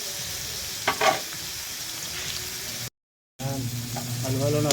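Pansit noodles stir-fried with vegetables in a pan, giving a steady close sizzle with brief stirring scrapes, a short dropout, then louder frying with some clattering and possible faint talk.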